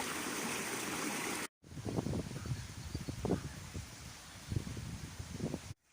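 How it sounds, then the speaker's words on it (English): A flooded river in North Cornwall rushes with a steady, broad wash of water, interrupted by two short dropouts, with some low rumbling gusts or handling noise over the flow. "It's interesting to see a river in flood"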